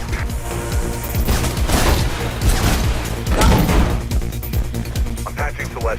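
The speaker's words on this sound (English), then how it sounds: "I can hear gunshots" Bursts of rapid gunfire crackle and thud throughout a tense firefight in the game Mirror's Edge, dense and loud, layered with crashes and impacts.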